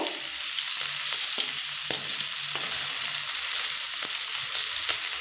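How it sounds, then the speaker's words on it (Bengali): Bitter gourd, shrimp and panch phoron fry with stem pieces and potatoes over a medium flame, a continuous bright sizzle broken by a few sharp knocks of a spoon against the pan. "উচ্ছে আর চিংড়ি মাছ আর পাঁচফোড়ন খুব সুন্দর করে কষিয়ে নিয়েছি"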